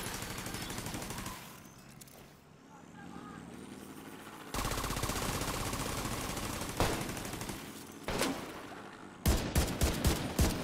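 Automatic gunfire from The Division 2 rattles out in loud bursts and sustained volleys, broken by a quieter stretch and ending in a run of sharp, closely spaced shots.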